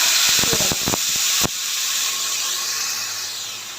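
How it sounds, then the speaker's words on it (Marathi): A burst of crackling pops as spice paste hits hot oil for an egg curry tempering, then a loud steady hissing sizzle that slowly fades. "असं मस्त तडतडलं पाहिजे वाटण मस्त आमटीला तडका बसतो"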